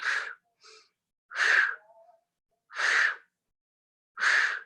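Strong breaths are pushed out through the mouth during a breathwork exercise, four forceful exhales in a slow, steady rhythm with silent gaps between them, close and clear with no talking.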